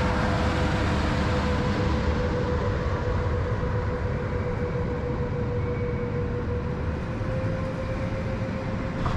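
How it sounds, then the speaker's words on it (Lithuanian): A train at a station platform gives off a steady, moderately distant rumble with a sustained tonal hum as it prepares to depart, continuous and without speech. "Tuoj šis traukinys išvažiuos"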